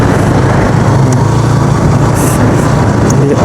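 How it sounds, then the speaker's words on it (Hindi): A motorbike rides a rough, broken mountain road between Chitral and Booni, producing a loud, steady engine drone mixed with wind rumble and occasional rattles, with no talking. "पता चल रहा है कि बाइक चल रही है।"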